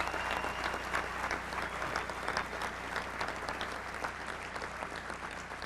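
A banquet crowd applauds at a tribute dinner for a basketball coach, a dense, even roar of many hands clapping from a large room, sustained and moderately distant, with no talking over it.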